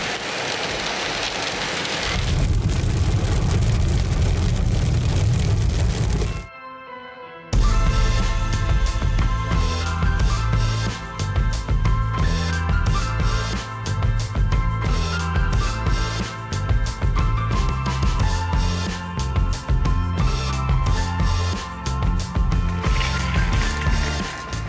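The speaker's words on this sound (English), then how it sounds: "Rain follows me everywhere." Heavy rain in Italy, a loud, dense and continuous roar of downpour on surfaces, briefly dropping out before returning just as intense, with no voices.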